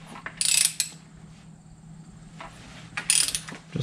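A Suzuki motorcycle engine is turned over by hand with the valve shims being adjusted, giving close, quiet mechanical clicks and ratcheting in two short bursts, with faint rattling between them.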